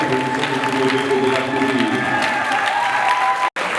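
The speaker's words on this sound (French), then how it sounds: "je demande de l'applaudir" Audience at an esthetics certificate ceremony applauding a graduate, steady clapping from a modest crowd with a faint sustained tone beneath, briefly cut by a short dropout near the end.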